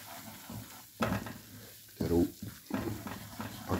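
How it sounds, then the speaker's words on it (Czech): Kulajda, a Czech creamy mushroom soup with dill, is stirred in a pot with a utensil, giving irregular scraping swishes and faint bubbling in uneven bursts, close and without speech. "míchám."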